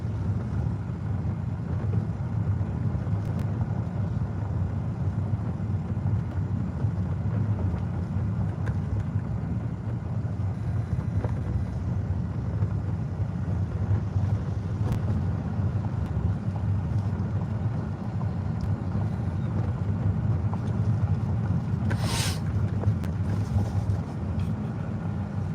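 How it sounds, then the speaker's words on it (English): Steady low rumble of a car driving through a visitor complex at sunrise, continuous road and engine drone with some wind noise, heard from inside, no talking. "We're driving through the visitor complex"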